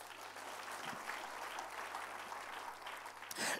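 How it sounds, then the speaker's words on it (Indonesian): Church congregation applause at a Christmas service, a continuous wash of many people clapping at a distance, fairly faint, over a low steady hum. "Tepuk tangan bagi Tuhan."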